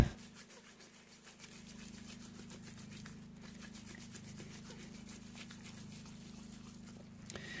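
Spice rub being worked by hand into raw bear meat, a soft steady rubbing and patting that continues throughout under a constant low electrical hum, with no talk.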